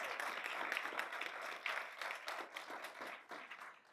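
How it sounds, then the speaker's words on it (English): Applause from an audience at a real estate talk, a steady mass of clapping with uneven swells, moderately distant and fairly quiet. "huge round of applause for that"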